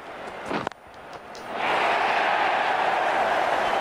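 A cricket crowd cheering a boundary four in a South Africa versus Australia match. A brief bat knock and murmur come first, then the stands rise into a loud, sustained roar of cheering and applause that carries through to the end.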